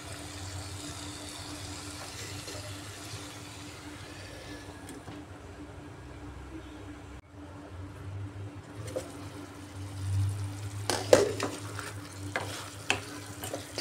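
Chicken cooking in a covered pan: a faint, steady low sizzle and simmer with a background hum, a few soft clinks and bumps near the end.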